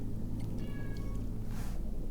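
A house cat gives a drawn-out meow with a wavering tone, followed by a brief breathy sound, heard faintly over constant low room rumble.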